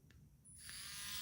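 Arrowmax rotary drill engraver spun up to a higher speed setting: a close, steady high-pitched whine that rises and grows louder over about a second after a couple of faint ticks, running alone without talk.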